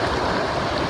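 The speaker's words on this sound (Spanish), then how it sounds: "tanta agua que cae" Heavy floodwater pours continuously during flooding after rain, a dense, loud rushing roar that fills the second with no gaps.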